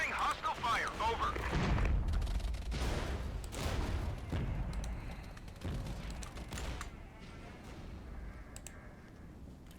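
Gunfire and artillery from the video game Regiments crash and boom through a dense, loud battle mix, with heavy low impacts early on fading to scattered shots, while a player speaks over the combat.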